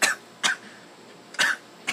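A person coughs after eating a red Trinidad hot pepper, four sharp close coughs in quick succession with short gaps between them.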